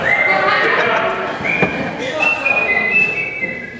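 A man whistles a Nutcracker Suite melody during a stage play, a thin wavering tune of held and sliding notes, close and fairly loud over faint background noise.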